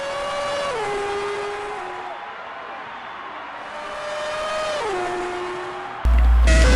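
Hypercar race cars on the final lap of a 12-hour endurance race, heard as high-pitched engine howls that rise and fall as they pass and shift gears, moderately loud, with no commentary over them.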